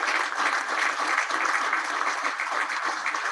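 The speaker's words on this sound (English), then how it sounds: "everybody needs to give an applause to these people in this room" Sustained applause from people in a room at a town council meeting, a dense, even wash of clapping heard on its own at moderate level.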